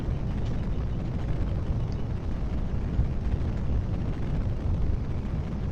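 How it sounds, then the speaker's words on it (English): Steady, dense low roar of a rocket engine in Kerbal Space Program during manually piloted flight, continuous and loud without breaks or talk. "Flying my rocket manually."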